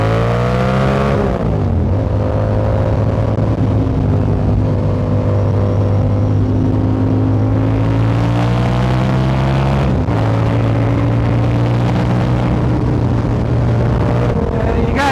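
2022 Yamaha R7 motorcycle engine revving right beside the camera, very loud and sustained, the pitch rising and falling through several throttle blips with a droning exhaust note.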